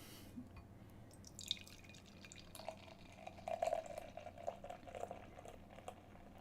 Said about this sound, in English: And we'll get into the theatrics of a 5-minute pour.